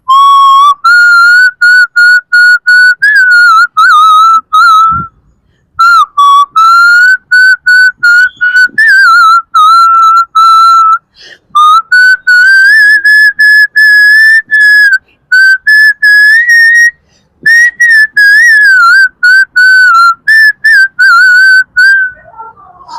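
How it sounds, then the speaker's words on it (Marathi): A person whistles a song as a clear, loud solo melody, with bright, wavering phrases broken by short pauses between lines. "मी शिट्टीतून गाणं म्हणून दाखवणार"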